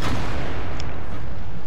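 A single heavy tank cannon shot in World of Tanks, loud and close, with dense rumbling noise filling the short stretch around it.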